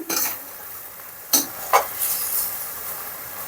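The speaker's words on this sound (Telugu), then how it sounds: "చూడండి చికెన్ బాగా గోల్డెన్ కలర్లోకి ఫ్రై అయిపోయింది" Chicken pieces for gongura chicken pickle fry in hot oil. A soft sizzle runs throughout, broken by a couple of sharp scrapes and clinks as they are stirred in the pan. No voices are heard.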